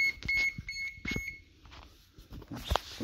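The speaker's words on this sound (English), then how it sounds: "Oops, something's beeping." An electronic device on a DIY electric skateboard build emits a short series of high, thin beeps, faint and close, mixed with small handling clicks and knocks.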